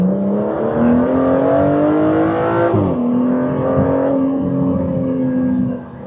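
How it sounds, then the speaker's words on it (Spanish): A 2025 Aston Martin Vanquish drives with its exhaust not in the loudest mode, a steady loud engine drone rising and falling in pitch as it accelerates and shifts. "El sonido no es muy escandaloso, no tiene los escapes en el modo más ruidoso."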